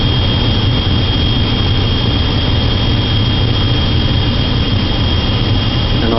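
A malfunctioning furnace burner blows its flames back out, making a loud, steady roaring rush with a constant low rumble and a faint high whine that holds without a break.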